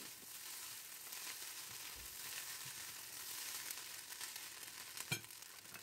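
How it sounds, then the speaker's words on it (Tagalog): Leftover rotisserie chicken, mixed vegetables and rice stir-fry in a pan, a steady broadband sizzle with occasional scrapes and one sharp utensil clank near the end. "ilagay ang cooked mixed vegetables na may rotisserie chicken at muli itong isangag ng 2 hanggang 3 minuto"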